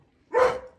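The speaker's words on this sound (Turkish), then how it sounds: "Hırlama sesi çok güzel ya." A Kangal dog gives one short, loud, close growl that swells and fades within half a second after quiet.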